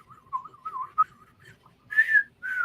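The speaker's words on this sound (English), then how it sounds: "we hear some creepy whistling." Eerie whistled melody from an episode of Star Trek: Picard, a wavering tone sliding up and down for a couple of seconds before two higher, louder sustained notes, with faint low murmur underneath.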